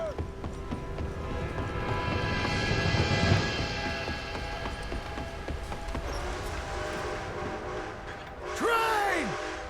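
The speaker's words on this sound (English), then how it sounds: "A train!" Passing train in the Red Dead Redemption 2 game world, a steady rumbling with rail noise and a bright horn-like swell near the end, mixed with hoofbeat-like clatter and in-game voices.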